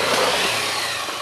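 A dirt bike engine revs hard during a trail climb, a loud, rough and sustained roar that stays close with no talk over it.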